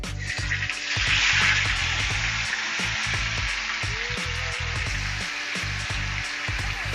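Tofu fries in hot oil with a dense, continuous sizzle and crackle, loud and close, swelling early then settling into a steady hiss with scattered pops.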